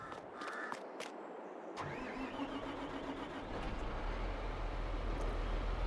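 A John Deere tractor in Farming Simulator 22 cranks and fires up, then settles into a steady, deep engine rumble that builds and holds loud to the end.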